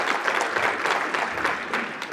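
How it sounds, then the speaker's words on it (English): An audience breaks into warm, continuous applause, a dense patter of many hands clapping together from fairly close, holding steady for a couple of seconds with no speech over it. "We clap for that."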